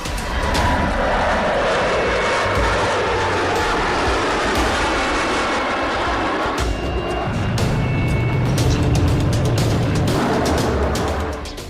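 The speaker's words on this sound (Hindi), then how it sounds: "आसमान को चीरते हुए रफाल निकलता है, भारत की हवाई शक्ति का प्रतीक।" A Rafale fighter jet roars past at the Aero India air show, a loud, continuous broadband rush of engine noise that stays strong throughout and shifts in tone partway through as the aircraft passes.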